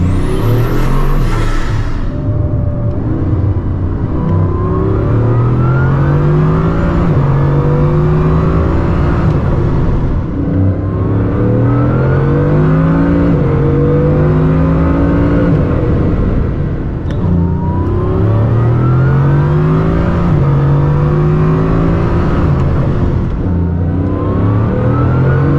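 A 1600 hp Bugatti Chiron Super Sport accelerates hard from 100 to 200 km/h, its engine roaring loudly and continuously in two sweeping rising runs with a brief shift-like dip between them, heard close and without talk.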